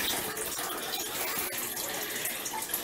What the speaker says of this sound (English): I'm going to go take a shower